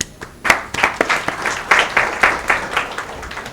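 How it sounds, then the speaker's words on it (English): An audience at a law convention in New Delhi applauds steadily, a dense patter of many hands clapping that swells after a brief pause and carries on at an even level. "I request everybody to have a big round of applause"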